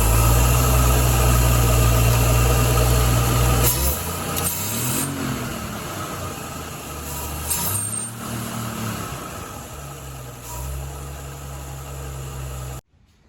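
A 1953 Ford Customline engine runs steadily and loudly, then the pitch rises and falls in a few short revs as gas is given, settling back to a rough idle before cutting off abruptly at the end.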